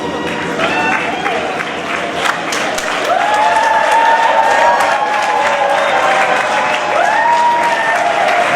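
Wedding guests applaud the bride at a civil wedding in Brazzaville, loud sustained clapping that swells partway through, topped by high ululating cries and cheers.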